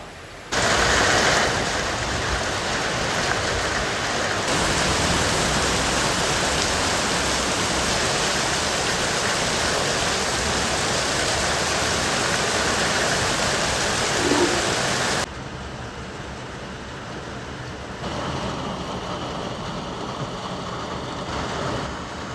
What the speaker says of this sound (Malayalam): അപ്പോഴേക്ക് ഭയങ്കര മഴ